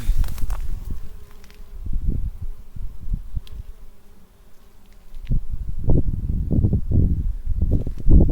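Honeybees hum over a buckwheat field, a soft continuous drone beneath rustling and handling noises close to the microphone.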